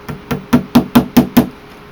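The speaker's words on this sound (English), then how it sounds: "sometimes the easiest thing to do is to preset your nails with your 5/8 inch wedge nail" Seven sharp hammer taps drive 5/8 inch wedge nails to preset them in a wooden beehive frame for wax foundation, struck in a steady, evenly spaced rhythm, close and fairly loud with no talk.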